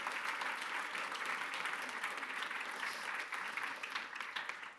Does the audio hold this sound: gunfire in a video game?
no